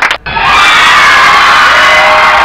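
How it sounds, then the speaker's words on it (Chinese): Crowd screaming effect triggered on a Kaxisi FX5 live-stream sound effects box: after a brief cut, a loud, dense wall of high-pitched shrieks and cheering from many voices rushes in and holds steady. "尖叫声"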